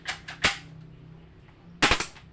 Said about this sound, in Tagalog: Itong baril ko.